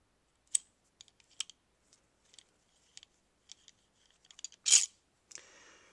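Mauser Kar98k rifle bolt being twisted apart by hand: a sparse run of faint, close metallic clicks and ticks, ending in a brighter scrape and a soft rustle.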